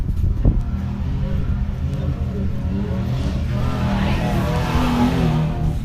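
A Can-Am off-road race vehicle at the 2023 High Desert 100 qualifying roars over desert jumps, its engine revving and surging at a moderate distance in a continuous, rising and falling drone.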